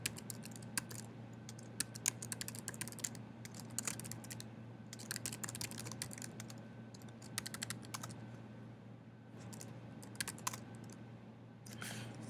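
Keystrokes clatter steadily on a computer keyboard while a command is typed to launch a web server, with quick irregular bursts of clicks over a low constant hum and no talking.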